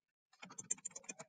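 A web address typed on a computer keyboard, a quick close run of about a dozen key clicks after a brief silence.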